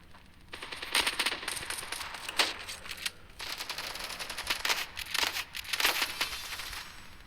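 Rapid bursts of automatic gunfire in the mobile shooter Standoff 2, with dense crackling volleys starting and stopping in quick succession, loud and close throughout with no talking.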